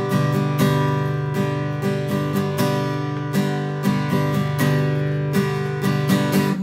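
Acoustic guitar strummed in a syncopated pattern with repeated consecutive up strums, a steady rhythmic chord pattern played close and clear with no voice.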